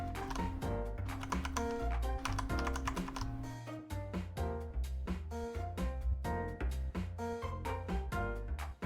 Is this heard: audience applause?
no